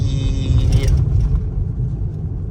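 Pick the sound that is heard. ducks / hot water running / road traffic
road traffic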